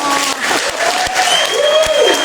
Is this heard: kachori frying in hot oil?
no